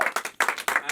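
Applause from a studio audience during a talk with a singer, heard as choppy bursts of clapping that swell and drop several times within a second.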